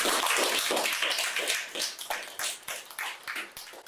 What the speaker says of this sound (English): the applause is basically just for turning up